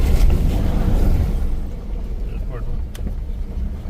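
A four-wheel-drive vehicle grinds along a forest track at night, its low engine rumble and tyre noise steady and close throughout, with someone talking over it.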